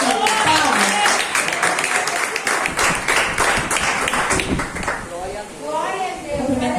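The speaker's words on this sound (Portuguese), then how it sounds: "Palmas." Applause and clapping from a church congregation welcoming a woman missionary, a dense steady patter of many hands filling the room throughout, with voices mixed in underneath.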